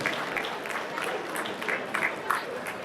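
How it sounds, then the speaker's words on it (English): Conference audience clapping for regulators at a national pharmacy conference, a steady, moderately loud patter of many hands with voices mixed in. "Total clap for regulators, especially if you are moving."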